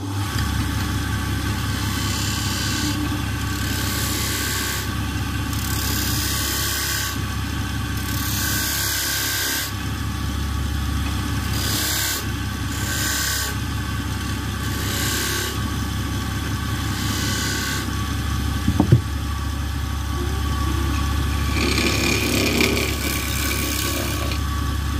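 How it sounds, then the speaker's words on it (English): A skew chisel cuts V-grooves into wood spinning on a woodturning lathe for a simple lamp, giving a steady close rubbing hum over the motor's continuous drone, with a brief sharp knock near the end. "Taking the skew chisel, I'm just going to put some V-grooves in."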